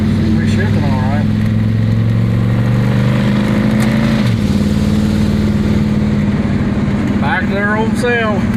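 A Plymouth Belvedere with a push-button 727 TorqueFlite automatic drives along, its steady mid-pitched engine drone holding close and continuous, dipping briefly at a gear change midway, with a voice speaking faintly over it.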